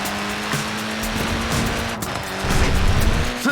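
A Mini's small tyres squeal under hard cornering in Forza Horizon 4, the screech sustained over a steady engine drone for several seconds, loud and close, rising slightly near the end.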